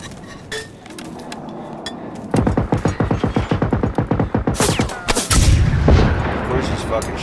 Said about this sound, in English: Of course he's fucking shooting at me.